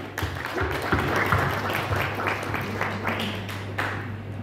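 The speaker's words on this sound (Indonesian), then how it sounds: "Kita tepuk tangan." Audience applause at a regional seminar, a modest wash of clapping at moderate distance over a steady low hum, with no talk.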